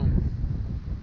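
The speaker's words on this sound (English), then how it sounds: "It's kind of windy today." Steady, cold wind buffets the microphone on a fishing pier at Fulton, Texas, with a constant low rumble, continuous and fairly loud throughout.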